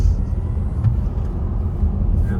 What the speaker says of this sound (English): So nice, smooth, and then we can accelerate like crazy.